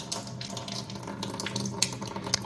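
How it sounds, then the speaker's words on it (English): Water runs steadily from the dedicated spout of an SD501U under-counter alkaline water ionizer, a custom faucet matching the main kitchen tap, giving a continuous close hiss and splash with no talking. "It has its own dedicated faucet with the alkaline water and the acidic water."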